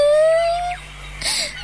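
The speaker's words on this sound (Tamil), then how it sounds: "அது குழந்தையோட சத்தம் மாதிரி இருக்கு." A baby's wailing cry rises and falls in a brief plaintive moan, heard faintly at a distance over an underwater-like ambient hum in an animated seaside scene.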